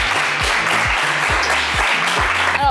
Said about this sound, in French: Mais ça s'applaudit très fort